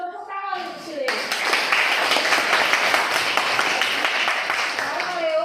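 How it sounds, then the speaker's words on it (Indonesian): After a moment of a teacher speaking, a classroom of children bursts into applause for a student named Leo, brisk close clapping that stays lively to the end, with a voice returning briefly at the close. "Tepuk tangan untuk si Leo"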